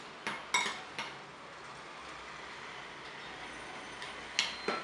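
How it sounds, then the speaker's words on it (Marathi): Butter being worked into crushed biscuit crumbs for a cheesecake base, heard as scattered clinks and scrapes of a spoon against a bowl at the start and end, with a quiet hiss between. "व्यवस्थित मिक्स करून घ्यायचं पूर्ण बिस्किटच्या चुऱ्याला बटर लागू दे"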